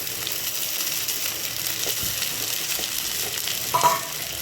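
Sabudana tapioca pearls fry in hot oil with a steady close sizzle, broken by a few scrapes and clinks of a stirring utensil against the pan, with no voices.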